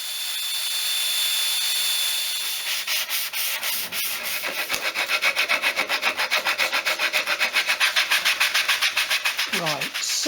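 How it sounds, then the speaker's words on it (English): Hand sanding pallet wood for a tool box build, quiet rubbing at first then a fast, steady back-and-forth rhythm of strokes, loud and close. "So I'm going to do a little bit more sanding."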